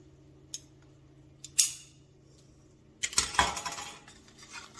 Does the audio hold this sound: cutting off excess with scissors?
yes